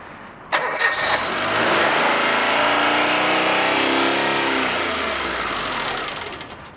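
A newly installed gas-fired cogeneration engine, low on gas pressure, cranks and catches briefly, with a sharp start followed by a loud rising and falling mechanical drone that sags and fades toward the end.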